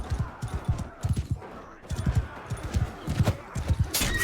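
Horse hooves pounding in rapid, uneven clusters during a battle in the Mount and Blade Bannerlord video game, loud and close, with battle noise around them.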